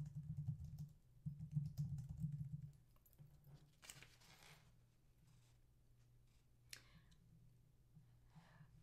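Quiet, close typing on a computer keyboard while entering a document title in Google Docs, with a dense cluster of soft keystrokes at first, then sparse clicks and a low hum.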